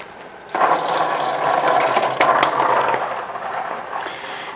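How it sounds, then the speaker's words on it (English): Tap water runs steadily at a sink while hands are washed in a home kitchen during cooking, starting suddenly and continuing as a close, loud, broadband rush with a few faint clinks on top. "To wash my hand real quick."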